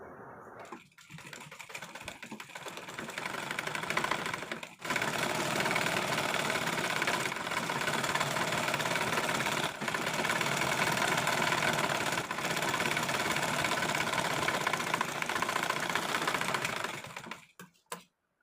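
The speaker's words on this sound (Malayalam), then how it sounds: "അപ്പോൾ നമുക്ക് ഇതിൻ്റെ അടിയിലേക്ക് അങ്ങ് സ്റ്റിച്ച് ചെയ്ത് കൊടുക്കാം കേട്ടോ" A sewing machine runs steadily for about twelve seconds while stitching the hem of a midi dress, making a loud, continuous whirring rattle that starts and stops abruptly.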